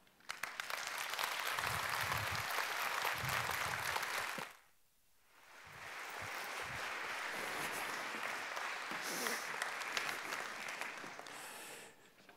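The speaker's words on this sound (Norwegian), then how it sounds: "Jeg synes dere skal klappe for de som gjør jobben." Audience applause at a Norwegian health conference after a speech by the health minister, loud sustained clapping from a large hall that briefly drops away midway, then swells again and continues steadily.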